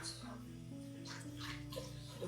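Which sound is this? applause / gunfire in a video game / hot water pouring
hot water pouring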